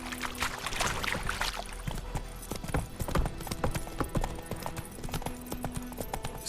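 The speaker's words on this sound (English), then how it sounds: "Whoa there, Roach." Horse hooves clip-clop at a steady walking rhythm in the video game The Witcher 3, close and clear, with light creaks and ambient noise around them and no speech.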